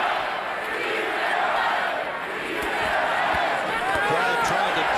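Boxing arena crowd roaring in support of a fighter during a bout, a dense, sustained wall of cheering and shouting that swells slightly toward the end, with a commentator's voice running over it.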